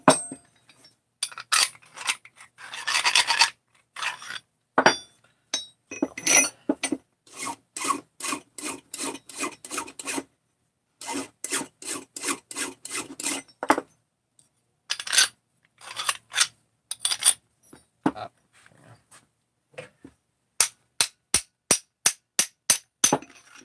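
Small metal kit parts are filed to clear a burr inside, giving close, crisp rasping strokes in short bursts and rhythmic runs, separated by brief silences, with no voices.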